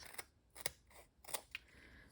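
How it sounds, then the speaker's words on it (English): Several short, crisp snips of scissors cutting foam dimensional adhesive pads in half for card making, close and quiet, coming in uneven bursts about a quarter second apart with no talk. "And I need my scissors. I cut my dimensionals in half."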